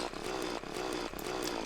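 A drill in the Terraria video game runs as a continuous buzzing, grinding motor drone with regular slight pulses, steady and fairly loud with no talk.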